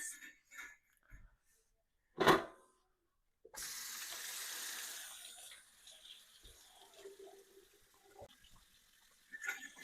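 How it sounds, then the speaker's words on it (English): Tap water runs into a kitchen sink as fresh vegetables are rinsed for pesto pasta, a steady hiss starting after a sharp clunk, with faint handling clinks around it. "since we're working with fresh produce, we want to wash our vegetables"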